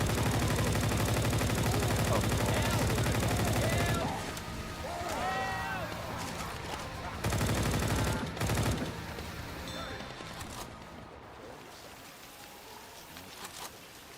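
Video game gunfire: dense rapid automatic shooting for the first few seconds, then scattered bursts and single shots among game noise and faint chirps, fading toward the end.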